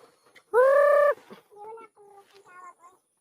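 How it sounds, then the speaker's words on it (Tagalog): A hen gives a loud drawn-out squawk, followed by several softer, shorter clucks in a broken rhythm, close by with no talking. "May mga manok silong."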